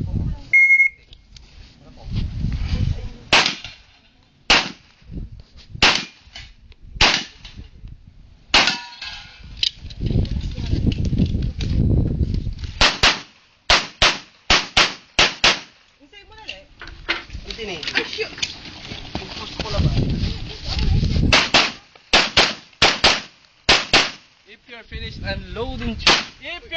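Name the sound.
pistol gunshots at shooting range competition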